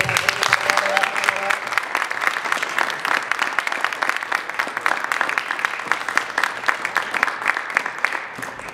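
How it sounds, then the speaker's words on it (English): A concert audience gives a performer a round of applause at a university event, lively crisp clapping that runs steadily for several seconds with faint voices underneath. "Give a round of applause for Quajo,"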